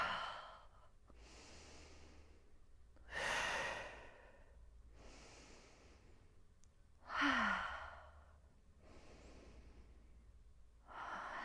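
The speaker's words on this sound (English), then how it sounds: "Taking a couple of breaths here." Several slow, deep breaths during a yoga pose, each a long audible inhale or sighing exhale repeated at a relaxed pace, close and clear with quiet pauses between.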